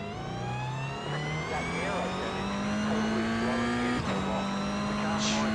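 Toyota-class race car in a racing video game, its engine note holding a steady whine that climbs gradually before dropping at a shift, then climbing again, with faint tire scrub underneath and no talking.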